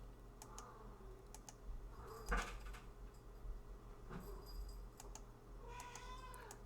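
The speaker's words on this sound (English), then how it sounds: "if you hear a little meow every so often, that's basically my cat" Faint, occasional cat meows mixed with light keyboard typing and clicks in a quiet room.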